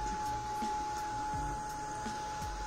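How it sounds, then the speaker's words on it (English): A heat gun blows steadily over a second coat of black paint on a wood decoupage piece, giving a constant whirring drone with a thin steady whine and no speech. "I will be using my heat gun again to dry up the second coat."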